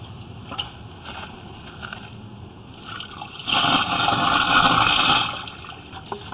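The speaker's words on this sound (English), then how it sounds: "And I just dumped a little water down the line." Water gurgles and rushes down a sewer drain line in a short, steady burst, preceded by faint trickling and dripping, close by and without any talking.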